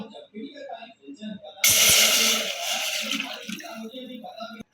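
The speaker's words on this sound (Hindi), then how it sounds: "सबसे पहले एक अलग बर्तन के अंदर 2 कप पानी के शामिल करेंगे।" Two cups of water are poured into a separate pot to start making pink tea. A close, hissing splash lasts about two seconds, with someone talking before and after it.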